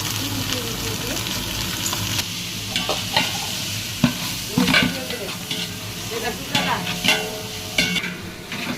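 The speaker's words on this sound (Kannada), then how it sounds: "ಇದನ್ನು ಮೊದಲು ಸ್ವಲ್ಪ ಬಿಸಿ ಮಾಡ್ಕೊಂಡ್ರೆ ಎಣ್ಣೆ ಬಿಟ್ಕೊತೈತಿ ನೋಡ್ರಿ" Mutton fat heating and frying in a pan to release its oil, with a lively close sizzle broken by repeated scraping and clacking of a spoon stirring the pieces.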